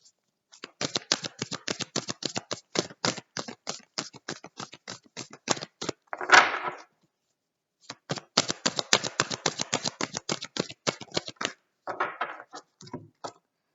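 Oracle cards being shuffled for a reading: rapid papery riffling bursts with a brief pause and a soft thump near the middle, then more riffling and a final quieter flurry, close and alone without talk.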